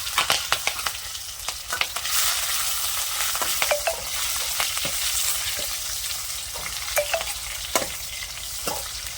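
Pointed gourd and chopped chillies fry in a pan with popped mustard seeds and cumin, giving a bright continuous sizzle broken by quick scraping stirs and clinks, up close with no talk.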